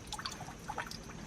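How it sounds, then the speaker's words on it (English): Water trickles off rocks and down through moss on a nature preserve trail, a faint run of small irregular drips and splashes with no talking. "just a lot of water trickling here off of the rocks. Coming down through the moss."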